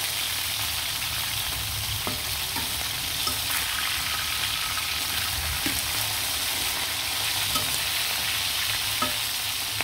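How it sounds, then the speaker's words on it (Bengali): Chicken pieces frying in a pan, browned to a deep red, with a steady broadband sizzle and occasional soft scrapes of a spoon stirring, even and continuous throughout with no voices. "খুব সুন্দর করে লাল লাল করে ভাজা হয়ে গেছে মুরগির মাংসগুলো।"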